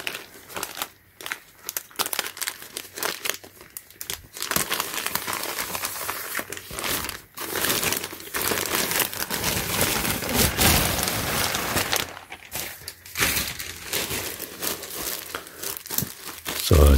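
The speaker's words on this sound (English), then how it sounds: "let's go and then unwrap this and then check it out" Plastic packaging from a Supreme clothing order crinkles and tears as it is unwrapped up close, a long stretch of loud rustling and crumpling with brief pauses, and someone talks over parts of it.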